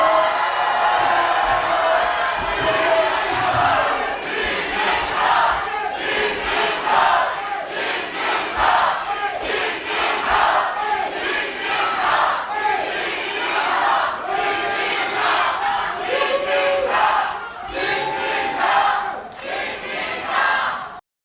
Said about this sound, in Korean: 각 후보들의 지지자들의 반응도 뜨거웠는데 그들의 환호 미터는 이랬습니다